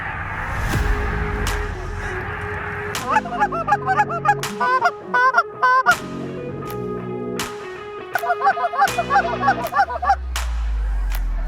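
Geese flying in during a Kansas waterfowl hunt, honking loudly and repeatedly at close range in rapid overlapping calls, with brief human voices and wind noise around them.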